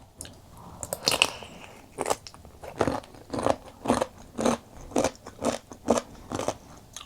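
Someone bites and chews crunchy soy sauce pickled jellyfish up close, a series of about a dozen sharp, rhythmic crunches spaced roughly half a second apart, with no speech.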